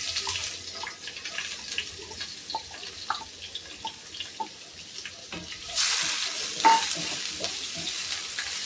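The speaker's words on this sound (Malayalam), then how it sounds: "അപ്പോൾ വെളിച്ചെണ്ണ ചൂടായി. അതിലേക്ക് ചുവന്നുള്ളി അരിഞ്ഞു വെച്ചത് നമുക്കിടാം." Chopped shallots hit hot coconut oil and sizzle steadily, with a louder hiss swelling about two-thirds through, over scattered stirring and utensil taps.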